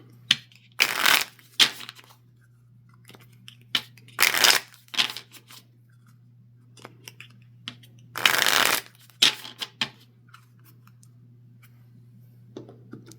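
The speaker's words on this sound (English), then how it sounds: "So we're going to shuffle these up and we will start." Playing cards being riffle-shuffled in several short whirring bursts, separated by quiet pauses and a steady low hum.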